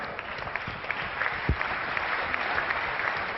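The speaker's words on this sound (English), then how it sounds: "But round of applause for Karizma." Audience applause after a startup pitch at a startup competition stage; a continuous wash of many people clapping, steady and fairly loud from start to finish with a single sharp thump midway.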